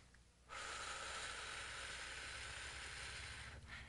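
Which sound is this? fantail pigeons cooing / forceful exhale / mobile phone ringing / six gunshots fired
forceful exhale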